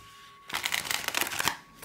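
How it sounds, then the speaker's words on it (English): A tarot card deck is given a quick riffle shuffle, a brisk close burst of fluttering card snaps lasting about a second in an otherwise quiet room. "Let's give you a quick shuffle."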